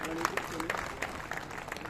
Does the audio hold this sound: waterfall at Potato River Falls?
no